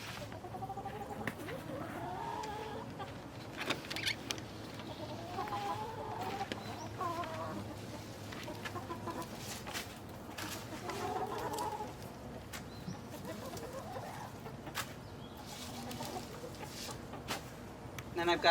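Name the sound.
chickens clucking while being fed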